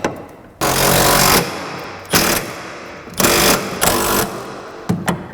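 An impact wrench tightens bolts on a truck's rear suspension during a 4-inch lowering job, firing in several loud, close hammering bursts of varying length with brief gaps between them.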